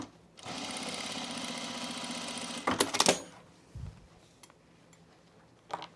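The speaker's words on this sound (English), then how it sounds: "we're just going to top stitch this on inside the overlocking" A sewing machine runs a fast, even top stitch along a pants waistband for about two seconds, then stops with a few sharp mechanical clacks and knocks and is followed by quieter handling sounds and one last tap.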